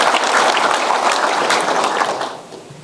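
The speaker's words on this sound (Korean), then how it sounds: "우리 황운하 울산청장을 위해서도 좀 박수 한번 칩시다." An audience at a police lecture breaks into loud, dense applause that holds steady for about two seconds before fading out.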